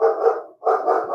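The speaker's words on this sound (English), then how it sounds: "Sorry about my dog." A dog barks loudly and close by in two bursts separated by a brief pause, with no speech in the clip.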